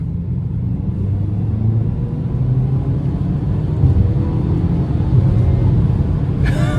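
A 2026 Ford Maverick XLT AWD with the 2.0-liter turbo engine accelerates hard on the road, a steady loud low engine drone and road rumble heard from inside the cabin.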